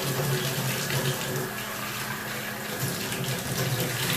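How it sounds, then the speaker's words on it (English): Water poured into a pressure cooker holding black beans, a steady, close splashing stream that runs unbroken for about four seconds. "And then we'll add 3 cups of water."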